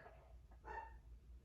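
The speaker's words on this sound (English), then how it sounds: "If you hear my dog barking" A single short, muffled dog bark at a distance, faint against quiet background hum.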